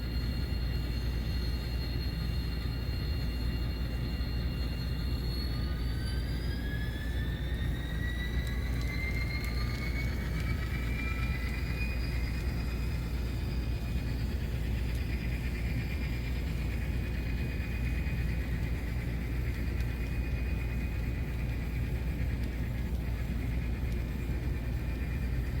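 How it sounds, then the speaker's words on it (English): An Illinois Central Gulf train rolls past near Granite City Steel, a continuous low rumble with steady wheel and engine noise, while a faint whine sweeps upward in pitch as it goes by. "The train is approaching"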